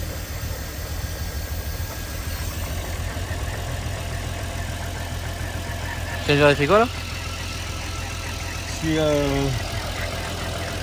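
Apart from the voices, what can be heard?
car engine cam phasers and timing chain noise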